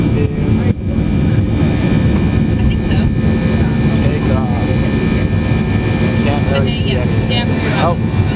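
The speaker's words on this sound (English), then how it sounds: "probably record us taking off in the plane" A jet airplane takes off while heard from inside, a loud, steady roar of engine and rushing air that holds throughout, with voices faintly underneath.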